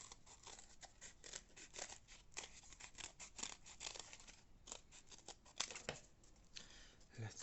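Scissors snip through paper again and again in a quick, uneven rhythm, cutting a drawn circle smaller for a handmade prop. The sound is close by and fairly quiet, with some crinkling of the paper between cuts.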